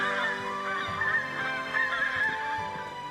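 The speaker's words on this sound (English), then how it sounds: "It sounds like a whole flock of geese." A whole flock of cartoon geese honking together, a dense, steady chorus of overlapping honks with no talking.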